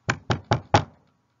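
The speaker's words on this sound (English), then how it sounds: "And they got to Bethlehem and they chapped the doors." Four firm, evenly spaced knocks on a wooden door, close and loud, each with a short resonant decay, then silence.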